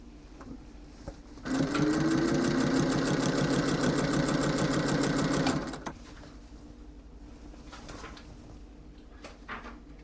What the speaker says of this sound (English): You're just keeping the fabric tight across and move it along the sewing.